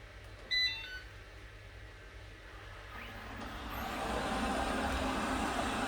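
Robot vacuum cleaner switched into spot cleaning mode: a short electronic beep comes first, then the motor and fan whir up and settle into a louder, steady, close hum for the remaining seconds.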